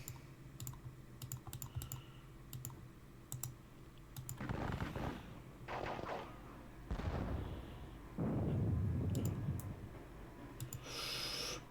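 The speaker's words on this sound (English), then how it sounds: "we're just exchanging gunfire for the moment" Distant musket and cannon fire breaks out in the WDS Gettysburg wargame, scattered booms and rumbling volleys mixed with sharp clicking, with no voices.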